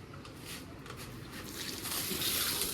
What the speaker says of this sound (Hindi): फटाफट से पानी डाल दे भाई